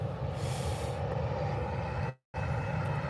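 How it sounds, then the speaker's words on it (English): A KLM Boeing 737 takes off at Birmingham airport, a sustained broadband engine roar holding steady, dropping out briefly for a moment of near silence, then resuming at the same level. "KLM 737 off over to Amsterdam"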